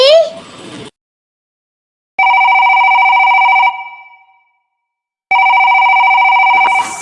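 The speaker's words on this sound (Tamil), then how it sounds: "போன் அடிச்சுக்கிட்டே இருக்கு" A telephone rings in two long electronic bursts separated by silence, loud and close, with a brief voice at the very start and end of the sequence.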